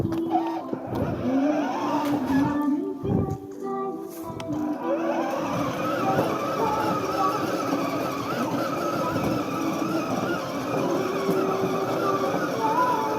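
A child's battery-powered ride-on Thar toy car, its battery recently repaired, runs outdoors in a residential colony, giving a steady motor whir with engine-like effects throughout, and voices can be heard faintly in the background.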